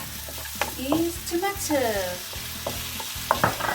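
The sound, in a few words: onions frying in a pan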